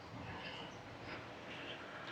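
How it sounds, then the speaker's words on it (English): A train rolls through the seaside Spanish town of Roquetas de Mar, a steady low rumble blended into open street ambience with no voices. "apart from the train popping along"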